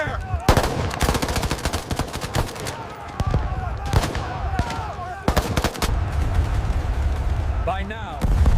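Machine gun fire from the battle of Iwo Jima, with heavy bursts of automatic gunfire and shots cracking from all sides, layered over rumbling battle noise, loud and continuous.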